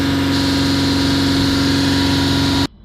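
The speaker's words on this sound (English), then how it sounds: "now I've got a pedal depressor holding the accelerator, which is around about 2800 RPM and maxes out" A Nissan Navara V6 engine with a diesel particulate filter fault runs at a steady held speed of about 2800 RPM, a loud, even drone with a strong tonal hum that cuts off abruptly near the end.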